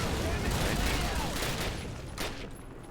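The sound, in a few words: gunfire in Call of Duty video game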